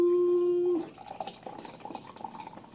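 A drink, a peach-flavoured beverage, is poured into a glass, giving a soft continuous liquid splash after an opening hum, fairly quiet and close, with faint background sounds.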